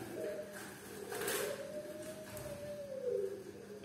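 A zebra dove of the Majapahit type coos softly in a low, rolling call, faint against a quiet background.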